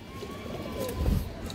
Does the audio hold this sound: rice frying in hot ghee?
no